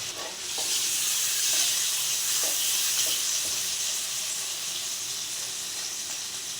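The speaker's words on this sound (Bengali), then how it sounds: "এই যে আমাদের চেপে যেমন চিংড়ি মাছের ভাজাভাজি হচ্ছে" Prawns fry in a hot pan with a steady, loud sizzle and hiss, close and continuous, with a few faint clicks of stirring.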